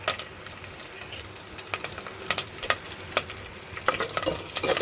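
Curry leaves, red chili and garlic frying in hot ghee and oil, a steady close crackling sizzle with scattered sharp pops and occasional stirring scrapes, no talking.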